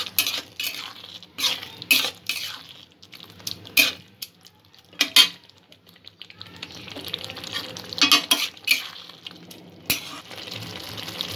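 A metal spoon stirs and scrapes through chicken bhorta ingredients in a sizzling pan, with repeated sharp clinks against the metal and a soft frying hiss between strokes, close and with no voices.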